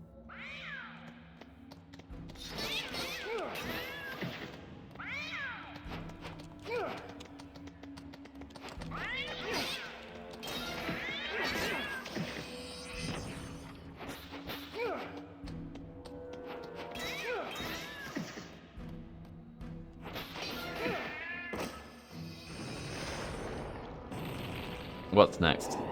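Cats in the Sphinx and the Cursed Mummy video game meow in repeated bursts over several seconds, with occasional thuds and game noises mixed in, fairly quiet overall.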